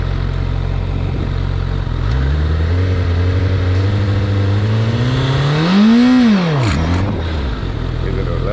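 A liter-class motorcycle engine idling with a deep rumble, then climbing in pitch to a loud high rev before dropping sharply back down, close and sustained throughout.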